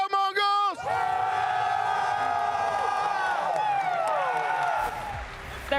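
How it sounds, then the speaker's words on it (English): A large arena crowd at an esports grand final in Austin roars steadily, with sustained cheering and chanted voices layered through it. The noise stays loud and continuous throughout, then drops off slightly near the end. "There is absolutely no denying who the crowd are rooting for in this one."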